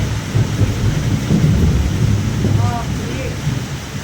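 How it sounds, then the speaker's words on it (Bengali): Deep thunder rolls low and continuous over falling rain and gusts of wind, with a few faint bird chirps near the end. "মেঘটা কেমন ডাকছে"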